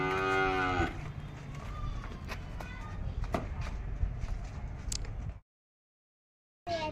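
A buffalo moos once, loud and close, a long low drawn-out call at a rural family home, followed by quieter farmyard ambience and a brief silence.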